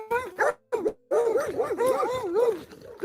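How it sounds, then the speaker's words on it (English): A dog makes a run of short, close, loud whimpers and yelps that rise and fall in pitch, with brief gaps between them and no talking. "The dog is here."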